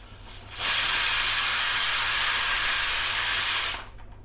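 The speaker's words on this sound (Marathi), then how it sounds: "तर इथे कुकरच्या 3 शिट्ट्या झाल्यात" A pressure cooker on a gas stove lets out a loud, steady jet of hissing steam that starts abruptly, holds for about three seconds and then cuts off.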